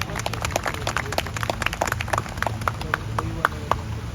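Applause from an audience at a poetry gathering (mushaira) at a gymkhana club, with sharp, uneven claps spaced irregularly over a steady low murmur, moderately close.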